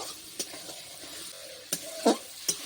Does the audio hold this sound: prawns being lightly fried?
yes